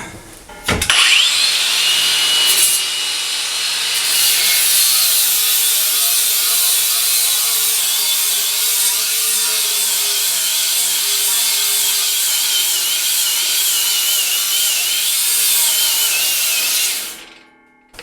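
A Bauer cordless brushless angle grinder from Harbor Freight, on a 1.5 amp-hour battery, spins up sharply and cuts with a loud, sustained high whine for about sixteen seconds before winding down. There are no voices.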